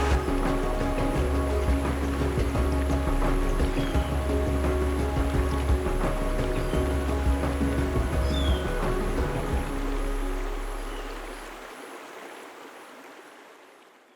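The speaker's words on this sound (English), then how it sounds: "With a waterfall in front." Waterfall pouring in front of a cave in the Western Ghats, a steady, full rushing roar of water, close and constant before fading away at the end.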